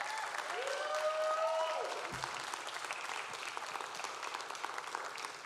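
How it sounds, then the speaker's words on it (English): A community radio awards gala audience gives the co-hosts a sustained round of applause, steady dense clapping with a few whoops and a brief high voice riding over it early on. "Big round of applause for your co-hosts, Barry and Dinah."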